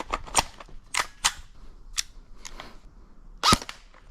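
An airsoft 416 rifle fired through a chronograph: a handful of sharp, snappy single shots spaced irregularly, with mechanical clicks between and a louder crack near the end.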